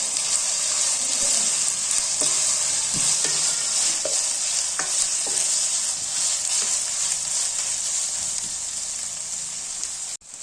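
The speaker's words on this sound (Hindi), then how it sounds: "अब इसके अंदर 1 चम्मच अदरक लहसुन का डाल देंगे और इसे बस 1 मिनट इसके अंदर भूनेंगे" Steady close sizzling of minced mutton frying in a pan with ginger and garlic, with a few light scraping stirs and clinks over the continuous crackle.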